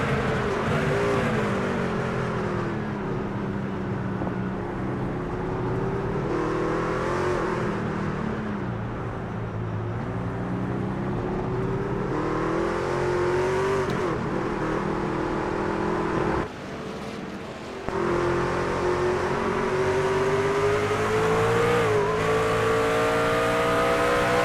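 Racing trucks' engines roaring continuously on the Indy road course in an iRacing truck series race, loud and close, with revs rising and falling through gear changes and a brief drop in throttle partway through.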